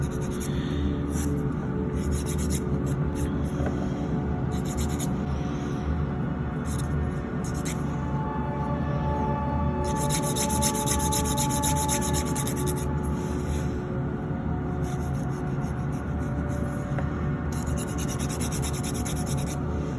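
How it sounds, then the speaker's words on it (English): Nail file rubbing across fingernails during a manicure, a steady rhythmic rasping in repeated strokes with brief pauses, close and continuous. "I know a lot of schools teach filing the nails just one direction"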